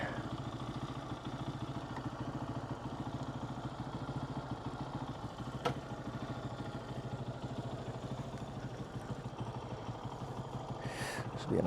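An engine runs steadily throughout at a constant idle-like drone, with a faint click near the middle and a brief hiss near the end, no voices.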